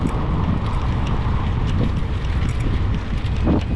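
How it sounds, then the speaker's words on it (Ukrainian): Strong headwind buffeting a cyclist's microphone while riding, a loud continuous low rumbling roar with gusty fluctuations throughout. "Вообще вітрюган в лице еле їду."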